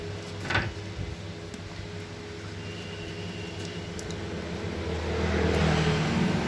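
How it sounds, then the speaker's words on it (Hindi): A TVS Jupiter BS4 scooter engine starts with a brief burst and settles into a steady low idle hum, swelling slightly louder toward the end. "अब गाड़ी को हम स्टार्ट करते हैं।"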